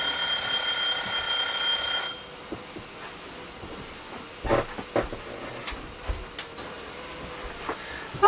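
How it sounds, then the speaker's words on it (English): A kitchen timer rings loudly and steadily for about two seconds after a 40-minute run on a canner for spaghetti sauce, then stops, leaving quiet kitchen bumps and clicks. "that is the timer, 40 minutes on this canner, so we're going to turn that off"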